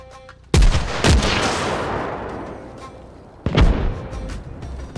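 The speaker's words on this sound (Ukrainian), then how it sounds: "Чекаємо підходящого моменту і робимо постріл." A shoulder-fired MANPADS missile fires in the Arma Reforger combat game, with a sharp launch blast followed by a booming rush, then a second heavy impact a few seconds later, loud and close.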